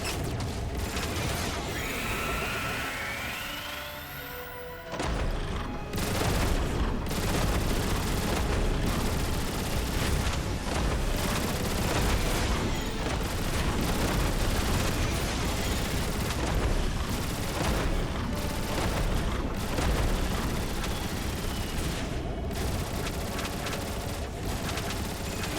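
Turret gunfire in Transformers War for Cybertron aimed at Seekers: after a few quieter seconds, dense rapid blasts and explosions hammer on loudly and continuously, with no talking.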